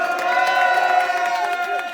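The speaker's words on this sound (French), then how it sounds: "on les applaudit" A live crowd at a comedy show cheers and claps after a sketch, with shouts and whoops over scattered clapping and voices mixed in.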